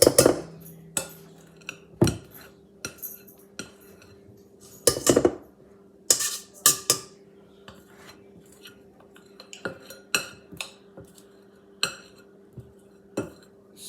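Bowls, dishes and cutlery clatter and clink while Jif cookies are being made, with scattered sharp knocks and chimes over a faint steady hum and no talking.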